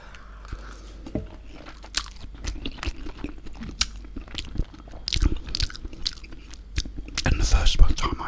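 Chinese food is eaten close to the microphone, with repeated crunchy bites and wet chewing in an irregular rhythm that grows denser and louder toward the end, and a voice speaks now and then.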